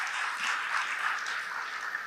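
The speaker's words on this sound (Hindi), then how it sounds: "ये देख करके, हाँ, जोर से ताली बजा सकते हैं।" An audience at a lecture claps together, a soft, even patter of many hands that holds steady for a couple of seconds.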